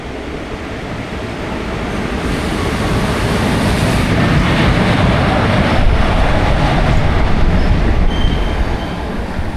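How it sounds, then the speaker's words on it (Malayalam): The Kottayam–Nilambur Express pulls into a station platform with a loud, close rumble that builds and holds, joined by wheel and rail noise and a brief high squeal. "അതാ കോട്ടയം നിലമ്പൂർ എക്സ്പ്രസ് ജസ്റ്റ് കയറി വരുന്നുണ്ട്."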